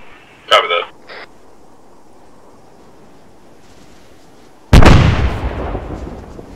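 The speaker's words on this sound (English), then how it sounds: "I'm putting a frag out by that, tank." In ArmA 3, a frag grenade goes off near a tank in a sudden loud, booming blast that rolls into a long fading rumble, after a brief earlier pop of voice.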